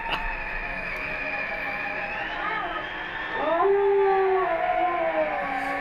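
A wolf howl from stock footage, with long wavering howls rising and falling over a steady background hum, louder and clearer toward the end.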